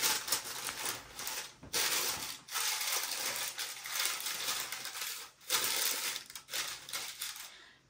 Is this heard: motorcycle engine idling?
no